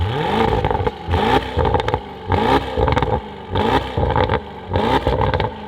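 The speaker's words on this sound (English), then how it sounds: "I've got a button here to actually make the exhaust louder as I go" A Mercedes SUV's exhaust in loud mode roars through repeated revs, each burst rising and falling with crackling pops between, close and aggressive.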